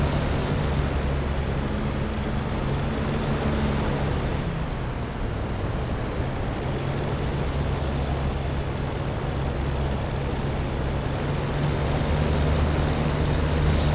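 Steady, loud drone of a Bf 109 K-4 Kurfürst piston engine in the DCS flight simulator, continuous and unbroken with a brief dip near the middle, no voices over it.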